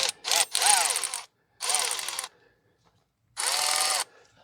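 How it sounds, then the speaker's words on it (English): Milwaukee 1/2-inch ratchet tightening bolts during a Timbren install on a Ford F250: three loud, close bursts of buzzing ratchet spinning with short pauses between them. "this Milwaukee 1/2 inch ratchet is pretty freaking impressive so far"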